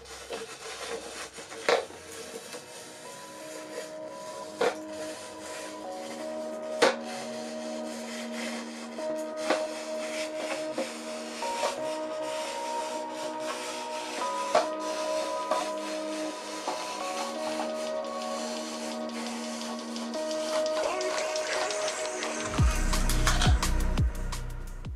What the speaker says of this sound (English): Pulling the strip through the cutter can be tricky at first, but once you get the hang of it, it's actually super satisfying.